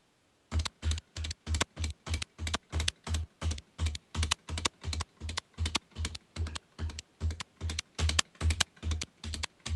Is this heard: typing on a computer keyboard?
yes